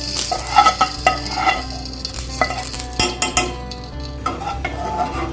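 Hot tempering crackles and sizzles as it is poured into a pot of Bengali-style raw mango dal, followed by a spoon scraping and stirring with clinks against the metal.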